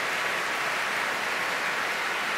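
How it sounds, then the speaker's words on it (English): A packed house at the Royal Albert Hall applauds after an orchestral performance, a dense, continuous wash of clapping at moderate distance, steady throughout with no voices over it. "the orchestra on their feet, acknowledging the applause of a packed house here at the Royal Albert Hall"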